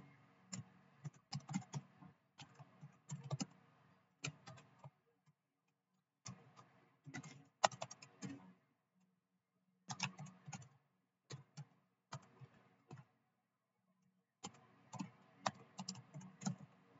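Someone types code on a computer keyboard while building a PHP database connection class. Soft, fairly quiet bursts of rapid key clicks are separated by short silent pauses.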